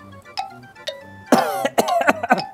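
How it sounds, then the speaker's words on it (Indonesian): A person coughs several times in a short, rough burst after a couple of faint clicks, close and fairly loud. "maaf nih, aku sedang batuk-batuk nih friends"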